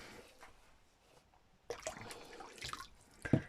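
Warm water from a jug splashes and trickles into a big bowl in bursts, with quiet drips at first and then louder pours near the end.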